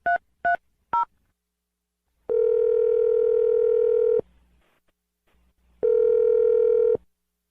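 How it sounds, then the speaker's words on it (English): Telephone dialing a number: three short touch-tone key presses, then a long steady ringback tone, a pause, and a second long tone, loud and clear with no talk. "So let's dial Manny's phone number right now and see what he has to say"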